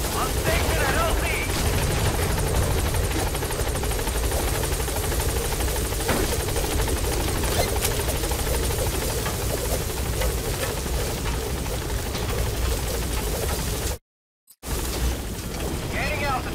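Helicopter in Metal Gear Solid V, landing at a landing zone and lifting off again: a loud, steady rotor roar with a deep rumble runs throughout, broken by a brief silent gap near the end.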